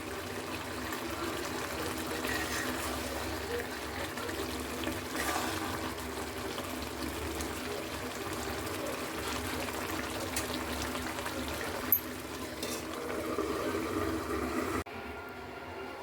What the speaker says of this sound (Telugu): చూడండి, సేమియా బాగా ఉడుకుతుందండి.